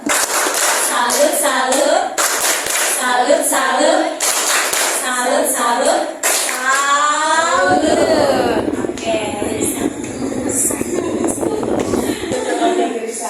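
A classroom group performs the Indonesian 'tepuk salut' clap chant, sharp rhythmic hand claps in bursts, with children's and adults' voices chanting and calling along throughout.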